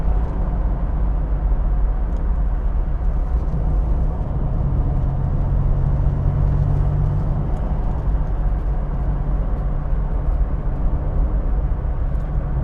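A Ford Capri Mk I 3000 GT XLR driving along, with a steady low engine and road drone that holds at a constant level throughout, close and continuous, and no talking.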